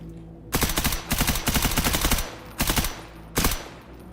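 Automatic gunfire from a weapon in STALKER GAMMA, loud and close, coming in several rapid bursts of shots separated by short pauses, with no talking.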